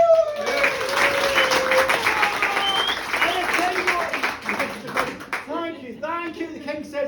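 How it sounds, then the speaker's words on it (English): Audience applause and cheering during a live storytelling performance, a lively wash of clapping with whoops and shouts, fading as a voice begins speaking near the end. "all applaud"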